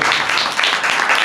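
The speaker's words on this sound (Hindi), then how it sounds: "ताली बजा के हम प्रभु के नाम में तारीफ करें।" A church congregation claps in praise, a dense, steady wash of many hands clapping together, loud and continuous throughout, with no distinct speech.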